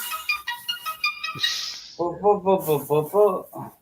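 A telephone ringtone repeats in short melodic tonal bursts, first a high electronic pattern, then a lower warbling ring cycling several times, fairly loud and close in a home.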